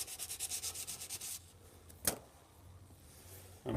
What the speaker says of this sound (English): I'm going to clean the sides